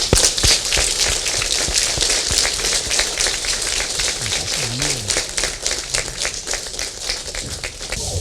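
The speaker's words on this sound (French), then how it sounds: "Sous vos applaudissements, s'il vous plaît." An audience at a diaspora gathering in Lyon applauds the president of the Central African Republic, a steady, dense patter of many hands clapping throughout with no pauses.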